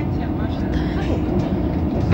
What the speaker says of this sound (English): It's been ages since I've been on the train this quiet.